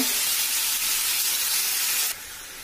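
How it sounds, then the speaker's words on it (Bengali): Onions fry and start to burn at the bottom of a pan, giving a loud, dense, continuous sizzle that drops sharply in level near the end. "তলে পেঁয়াজ পুড়ে যাচ্ছে তো নেড়ে নিয়ে মশলাটা দিয়ে দিব"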